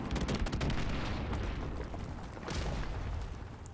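A grenade explodes in Call of Duty 4: Modern Warfare Remastered, a loud booming blast that rumbles and fades out, followed by a second swell of noise.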